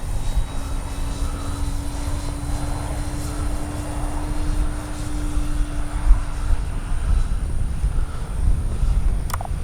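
An RC F4U Corsair warbird model airplane makes a slow flyby with flaps down at about half throttle, its engine a continuous moderate drone mixed with wind, staying steady throughout.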